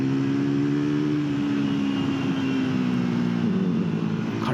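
A Triumph Tracker 400 motorcycle accelerating in third gear, a steady droning engine tone rising slowly in pitch over a few seconds, loud and close with wind rush and no speech.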